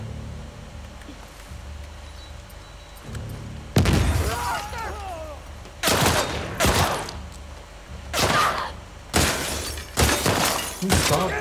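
Gunfire in The Last of Us Part II, with several loud bursts of shots and shattering impacts separated by quieter gaps, and a person talking in between.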